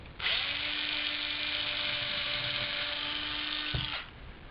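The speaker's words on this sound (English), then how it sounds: "drill holes in there" A small electric drill bores stitch holes through leather with a steady high whine for about four seconds, close and alone, stopping abruptly at the end.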